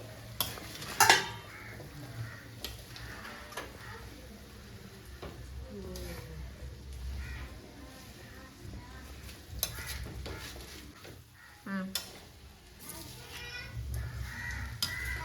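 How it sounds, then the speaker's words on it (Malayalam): Tuna stirred into fish pickle in a pan, with soft scraping and clinking strokes over a faint sizzle and occasional louder knocks, and distant voices in the background. "ചൂര നമ്മൾ ഇതിലോട്ട് തട്ടി മിക്സ് ചെയ്യണം"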